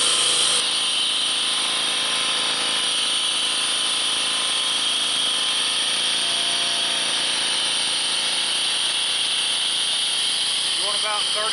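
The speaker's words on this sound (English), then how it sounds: "I want to adjust the RPMs on this little engine. It's not running quite fast enough" A small Honda power washer engine runs steadily at a slightly low idle speed, a loud continuous mechanical drone with a constant pitch that holds without pause from start to finish, close by.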